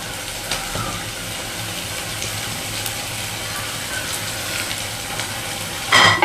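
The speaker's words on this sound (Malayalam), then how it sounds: "ഇതാ തക്കാളിയും ഇഞ്ചിയും വെളുത്തുള്ളിയൊക്കെ ഇട്ട് ഇതാ ഞാൻ നല്ലോണം വഴറ്റി കൊടുക്കുന്നുണ്ട്" Tomato, ginger and garlic with spice powders sizzle steadily in a pan while being sautéed, with a louder clatter of stirring near the end.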